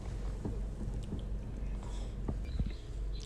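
Used car engine damaged by counterfeit oil, running in the engine bay with a low, steady rumble and scattered dull knocks ticking through it, heard up close.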